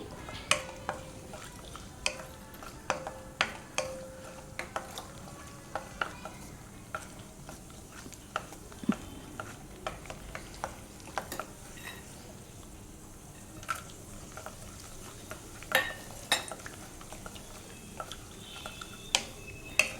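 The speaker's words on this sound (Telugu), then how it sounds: "జీడిపప్పు వేయించిన తర్వాత కిస్మిస్ వేయించి రెండు ఒక ప్లేట్లోకి తీసేసుకోవాలి" Cashews and raisins frying in a pan for pala kesari, a soft faint sizzle broken by repeated sharp clicks and taps of a spoon against the pan, close and without talk.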